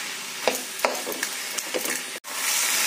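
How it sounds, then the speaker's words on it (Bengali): Mutton being stir-fried in a pan, with a steady sizzle under a few sharp scraping and stirring knocks from a spatula, close and fairly loud, with a brief dropout near the end. "এবার এটাকে ভালো করে একটু কষিয়ে নিই।"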